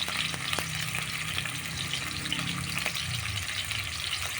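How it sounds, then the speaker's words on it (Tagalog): Chopped onions sauté in a pan for ginisang mongo, a steady close sizzle with occasional stirring scrapes, no talking. "Kasi ang sibuyas nagtutubig. Kaya medyo matagal siyang maluto guys."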